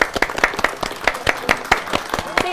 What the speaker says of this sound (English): I'd really like everybody at home around the country to give a huge round of applause,